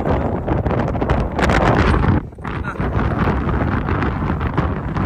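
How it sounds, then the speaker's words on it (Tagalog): Strong wind blows hard overhead, a loud continuous roar with gusting buffets against the microphone and a brief lull partway through, and voices are faintly audible within it. "Narinig ko yung hangin sa taas guys. Napakalakas."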